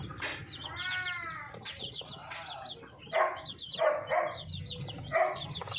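Upgraded native chickens and their chicks cluck and call close by in a farmyard, with repeated short bursts of clucking and squawks scattered across the clip and no talking.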